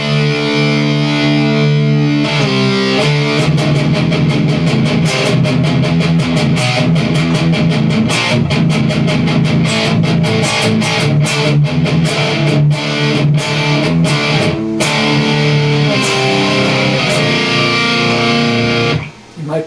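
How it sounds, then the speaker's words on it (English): Distorted electric guitar riffing through a Carvin Quad X amp's distortion channel with a scooped EQ, loud and continuous chugging chords with sharp palm-muted hits, played alone for nearly twenty seconds. "I like a little bit of a scoop sound on the distortion channels."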